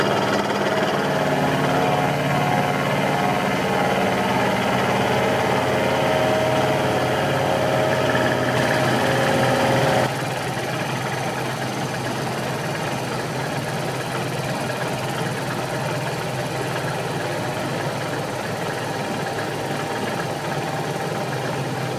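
A lathe skims a steel slide bolster for a powered lathe slotter build, giving a loud steady motor drone and machining whine that shifts and drops to a lower hum partway through.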